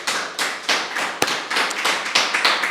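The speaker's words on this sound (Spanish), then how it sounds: "démosle un aplauso fuerte al Dios vivo" A church congregation applauds together, a close, busy patter of hand claps that swells and settles in repeated waves, with one sharp thump standing out partway through and no talking over it.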